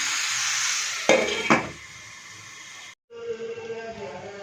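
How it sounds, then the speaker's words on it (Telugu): Onions cook in a pan over a low flame, giving a steady soft sizzle with two sharp clanks of a lid or spoon against the pan, then a brief silence before the quieter sizzle resumes. "సో ఉల్లిపాయలు వేసుకున్న తర్వాత ఇది కొంచెం వేగే వరకు తిప్పుకుంటూ ఉండాలి."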